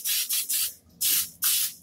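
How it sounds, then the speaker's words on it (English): Butter-flavored cooking spray hisses onto a pan in several short bursts, three quick sprays then a pause and two longer ones, close and fairly loud with no talk. "I got some butter flavoring spray"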